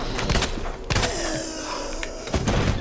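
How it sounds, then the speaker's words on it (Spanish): Shotgun blasts in the zombie survival video game Resident Evil 2, a few loud booming shots with heavy thuds spaced across a couple of seconds. "Vamos a pegar tiros con la escopeta."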